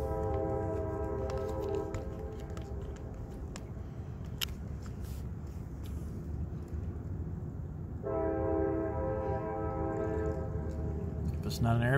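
A train rolls past with a continuous low rumble, sounding a long horn blast at the start and again for the last few seconds, fairly loud but somewhat distant.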